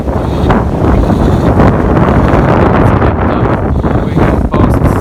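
Wind buffets the microphone aboard a solar-assisted sailing boat making about 7.5 knots off England's east coast near Lowestoft, a loud, steady, rumbling roar with no voices.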